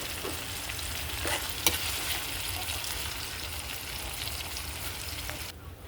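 Bonito fish frying in a pan, a steady close sizzle with crackling pops throughout, a couple of sharper clicks, fading quieter at the end.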